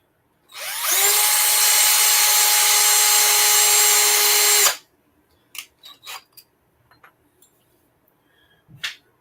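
A cheap electric drill polishing threads with an abrasive pad whines steadily and loudly for about four seconds, then stops, followed by a few light clicks and knocks of handling.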